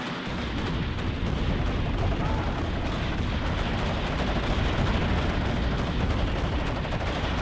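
Constant gunfire and explosions rumble through a battle in the real-time strategy game WARNO. The dense, continuous roar and crackle of distant shooting holds steady throughout, with no clear gaps and no voices.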